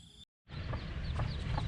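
A mother hen clucks softly a few times at close range against a steady outdoor background, with a short silent gap at the very start.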